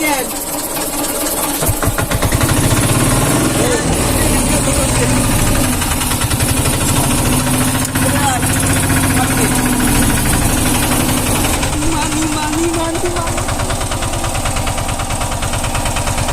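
A motorized boat engine runs in a steady, loud, continuous drone with a knocking idle rhythm throughout, while people talk over it.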